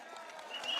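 A crowd at a Progress Singapore Party election rally in Singapore claps at a moderate level, with a steady wash of hand claps that builds a little louder toward the end, and voices mixed in underneath.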